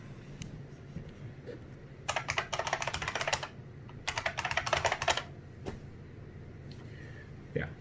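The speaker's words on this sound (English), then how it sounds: "so you type in your username and password" A username and password are typed on a computer keyboard in two rapid bursts of key clatter with a short pause between them, over a quiet room hum.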